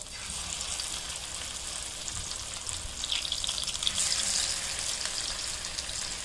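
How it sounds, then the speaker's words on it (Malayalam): Jackfruit seed vada sizzling in hot oil over a medium flame: a steady, close bubbling hiss that swells slightly partway through, with no talking. "നമുക്കിത് എണ്ണയ്ക്കകത്തോട്ട് ഇട്ട് കൊടുക്കാം വടയുടെ ഷേപ്പിലെടുത്തിട്ട് എല്ലാം ഇവിടെ ചൂടായിട്ടുണ്ട് നമുക്ക് മീഡിയം ഫ്ലെയിമിൽ ഇങ്ങനെ ഇട്ട് കൊടുക്കാം"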